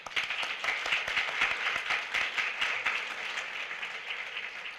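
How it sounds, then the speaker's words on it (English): Audience applause at a parent appreciation ceremony, a dense, steady burst of clapping from a crowd indoors that slowly thins toward the end. "So round of applause for that."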